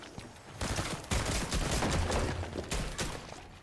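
Pump shotgun fire in the game Fortnite comes as several loud, close blasts in quick succession, each with a broad crackling burst and short echoing tail over continuous game noise.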